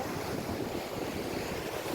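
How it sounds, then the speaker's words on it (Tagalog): Ocean waves wash steadily over the rocks of a beach in Mariveles, Bataan, a continuous low roar of surf mixed with wind buffeting the microphone, no voices. "Makikita niyo yung mga alon-alon, oh."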